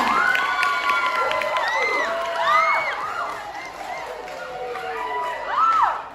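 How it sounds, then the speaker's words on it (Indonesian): An audience at a junior high school quiz contest in Asmat applauds the participants, a noisy crowd of clapping mixed with cheers, whoops and children's shouts. "tepuk tangan meriah dulu untuk seluruh peserta."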